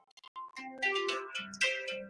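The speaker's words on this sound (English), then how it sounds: "we have a phone call coming in." A phone rings with an incoming call, a melodic electronic tone sequence of rising and falling notes, clear and close with no voices over it.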